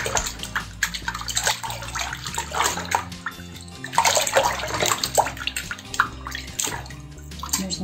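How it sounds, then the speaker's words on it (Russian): Water churns and splashes steadily in a basin as baby shampoo is mixed in to make soapy water for washing a synthetic wig, a continuous close sloshing with a low background hum. "И разводим шампунь в воде, чтобы водичка была мыльненькой."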